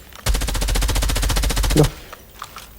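A loud rapid burst of automatic gunfire in a bomb-planting video game lasts about a second and a half, followed by quiet with faint distant sounds.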